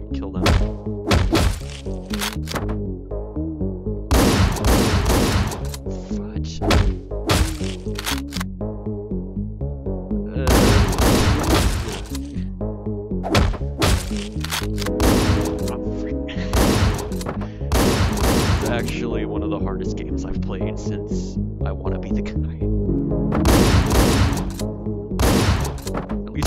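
Shotgun fire in the video game Hotline Miami 2: repeated heavy, punchy blasts and thuds in bursts over a steady, loud game music track, with a player's voice talking at times.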